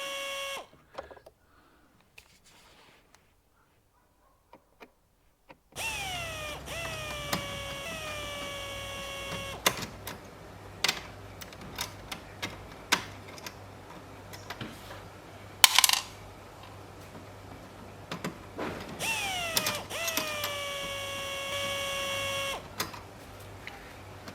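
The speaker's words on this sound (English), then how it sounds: "We'll just unscrew these screws from this old mic holder." Screws come out of an old microphone holder in several whirring mechanical bursts with sharp metallic clicks and taps, following a near-silent opening.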